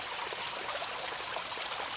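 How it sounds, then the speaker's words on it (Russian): A small waterfall near the village of Ostrov pours steadily in April, giving a continuous close, full rush of falling water with no pauses and no voices. "Водопад номер 16."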